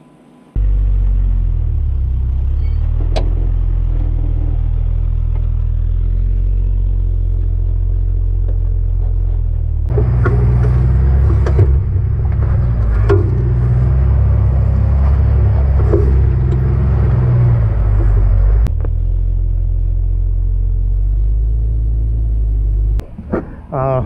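A Jeep ZJ Grand Cherokee with a five-speed swap and a new rear locker drives off-road, its engine rumbling steadily with clunks and clatter as it climbs over uneven ground, growing louder midway before easing back.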